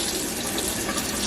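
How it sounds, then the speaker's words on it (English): Lentil sprouts rinsed in a strainer under cool tap water: a steady, close rush of running water splashing through the mesh, continuous and unbroken. "So I'm just going to rinse these really well"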